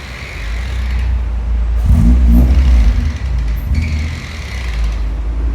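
A K-swapped Honda Civic with a new exhaust revs loudly nearby, a deep droning engine note that swells sharply in one strong rev midway, then settles back to a rumbling idle.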